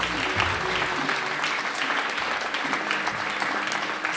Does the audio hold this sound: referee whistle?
no